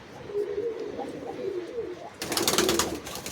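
Pigeons cooing in low, rolling bursts, several birds close by in a loft, with a brighter rush of noise near the end. The birds are Giribaj and Teddy high-flying pigeons.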